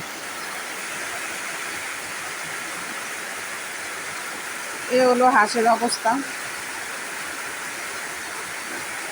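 Heavy rain pours steadily at a duck farm, with water running through the ducks' medicine water, a constant dense hiss throughout while a person speaks briefly partway through.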